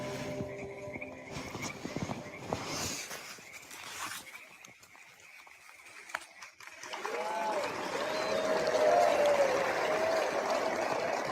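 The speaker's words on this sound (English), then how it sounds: "It sounds like an all-man crowd," A distant crowd of many men at the Bohemian Grove gathering rises as a broad, steady murmur of voices in the second half. It follows quieter, rustling sounds at the start.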